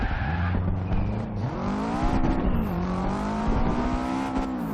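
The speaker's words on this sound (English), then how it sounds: "You can hear that turbo." A lowered Subaru STI's turbocharged engine revs and pulls through the gears, the tone rising and dropping in smooth sweeps with a turbo whistle on top, loud and close with no talk.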